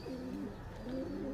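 Pigeons at a village home give a soft, low, rolling coo, close but quiet, in a brief repeated phrase.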